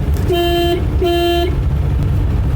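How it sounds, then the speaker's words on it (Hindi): Two loud, close car horn honks in quick succession, each about half a second long, over a low engine rumble, while driving on a foggy highway. "हॉर्न दो, हॉर्न।"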